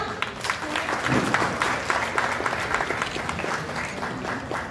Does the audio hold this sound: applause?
yes